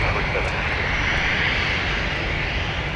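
An Airbus A320 airliner at MSP airport, heard as a steady, broadband engine roar that holds evenly for the whole stretch at moderate distance, with no breaks or other sounds standing out.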